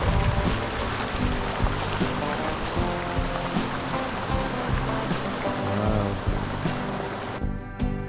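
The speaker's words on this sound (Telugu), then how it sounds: "గ్లేషియర్స్ నుంచి వస్తున్న వాటర్ ఇదంతా" Glacier meltwater rushes down a stream in Ladakh, a dense, loud, unbroken roar of flowing water with some low rumbling mixed in.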